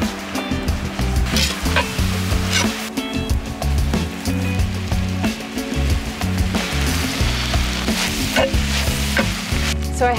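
Spices frying in a Dutch oven over an outdoor campfire in cold weather, a steady close sizzle running the whole time with no talking.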